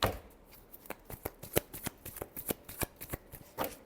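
Tarot cards being shuffled by hand in a steady run of crisp, close riffling snaps and flicks, about a dozen distinct bursts over a few seconds, with no voices.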